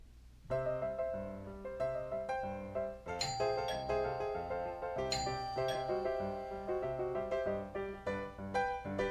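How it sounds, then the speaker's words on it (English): A bright chiming doorbell rings a melodic sequence of tones, clear and resonant, notes overlapping and sustaining for several seconds. "Oh wow, I just heard the doorbell ring"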